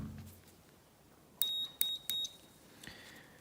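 A multimeter set to continuity beep mode sounds three sharp, high electronic beeps in quick succession, each brief and clear, over a quiet background with faint handling noises.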